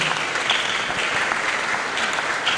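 Dense, steady applause from an audience at a DevFest tech gathering in Owerri, a short burst of many hands clapping together with no talk over it.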